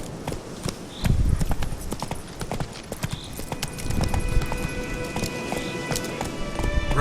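Hooves of Roach, the horse in The Witcher 3 video game, clip-clop in a steady gallop that is loud and close, over a continuous game background with no talk.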